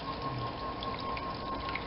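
Tap water gushes steadily into a bath pan, filling it halfway up the side for a water bath before baking, a continuous even rushing with a faint tonal hum and no talk.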